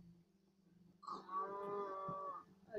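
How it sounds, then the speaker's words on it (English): A Minecraft cow gives one drawn-out moo at close range in a survival world, a low, fairly quiet call that stands alone over faint background ambience. "It's a cow."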